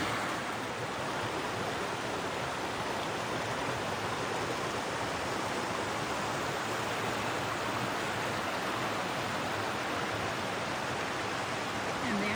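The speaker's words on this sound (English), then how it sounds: "Oh, I forgot to mention, this is Bear Creek." Bear Creek, a mountain creek just crossed on foot, rushes in a steady, dense broadband wash of flowing water that stays loud and unbroken throughout, with no voices.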